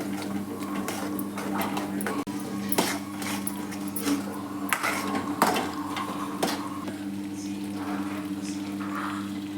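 Utensils scrape and clink in a pan as festival-dish ingredients for an Ugadi meal are mixed together, with irregular metallic taps and stirring strokes over a steady low kitchen hum.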